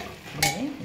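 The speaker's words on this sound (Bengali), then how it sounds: "চলো আলুটাকে ভেজে দিলাম দু মিনিট, দুই থেকে তিন মিনিট এই দেখো।" Potato pieces fry and get stirred in a pan, a short sizzle with a scraping stir partway through, close and fairly quiet.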